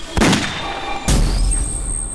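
Two loud, sharp gunshots ring out in a tense crime drama scene, each a sudden blast followed by a booming tail, roughly a second apart, with a thin ringing tone lingering afterward.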